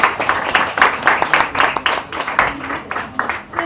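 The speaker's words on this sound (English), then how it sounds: "Can we have a huge round of applause for that?" Audience applause at a Society magazine issue launch, a fairly close burst of clapping with distinct individual claps in an uneven rhythm, brisk and loud for a few seconds.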